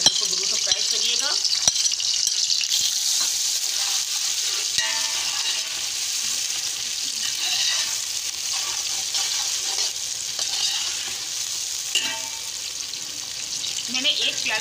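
Two large sliced onions frying in a generous mix of oil and ghee for motiya biryani, a loud continuous bright sizzle up close with occasional spoon clinks and stirring, a voice faintly present.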